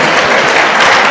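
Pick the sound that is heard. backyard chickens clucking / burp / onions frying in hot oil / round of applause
round of applause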